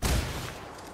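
Gunfire in the video game Ghost Recon Wildlands: a loud, dense burst of shots at the start that trails off into a sustained rumble of firing and echo.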